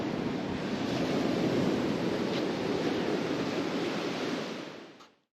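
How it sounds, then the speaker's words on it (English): Strong wind roars steadily at Camber Sands beach, a continuous broadband rush that buffets the microphone close up for about five seconds, then drops away abruptly near the end. "Bit windy, but manageable."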